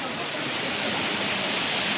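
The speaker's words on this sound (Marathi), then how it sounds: "इथला हा धबधबा मला खूप आवडतो छोटा" A small waterfall at Lonavala gives a steady, loud, broadband rush of falling water that holds even and continuous throughout, with no other sound standing out.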